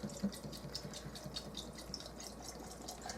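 Sparkling mineral water pours steadily into a glass of lemonade with lemon chunks, giving a soft, continuous splashing and fizzing trickle for a few seconds, fairly quiet and close.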